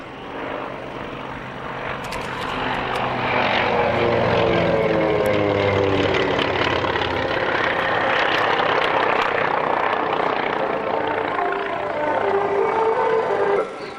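A P-51 Mustang propeller fighter flies past at an airshow, its engine roar swelling from a distance to a loud, sustained drone with a Doppler-like sweep before cutting off at the end.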